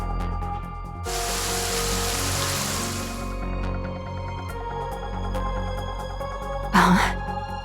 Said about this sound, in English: It's raining? But the sky's so clear.